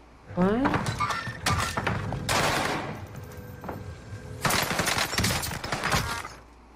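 Rapid bursts of gunfire hammer a wall in Fortnite, loud clattering volleys with impact thuds and breaking sounds in two main stretches, while voices talk over the shooting.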